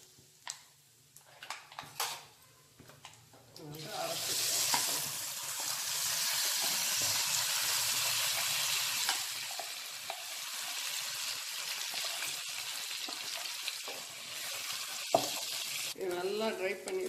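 Fenugreek seeds and asafoetida fry in a pan for pirandai thuvaiyal, a steady, loud sizzle that takes over after a few utensil clinks and goes on with small stirring scrapes, while someone talks quietly at the start.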